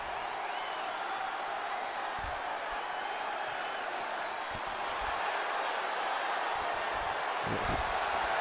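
Steady crowd roar and cheering in a wrestling video game arena during a pay-per-view match, a constant wash of noise beneath commentary voices with occasional thumps.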